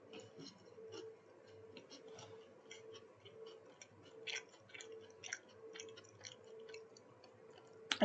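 Betty Crocker chocolate chip cookie, thin with a crunchy edge and gooey middle, chewed close to the mic in soft repeated crunchy bites against a faint steady background hum, no talking.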